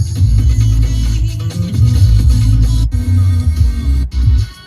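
FM radio playing through the factory speakers of a Maruti XL6 Zeta CNG, steady bass-heavy music filling the cabin at fairly loud volume, with two brief dropouts.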